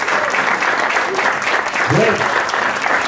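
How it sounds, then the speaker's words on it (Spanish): Audience applause at a digital marketing workshop for someone named Ulti, steady, close clapping with voices talking over it. "Un aplauso para Ulti"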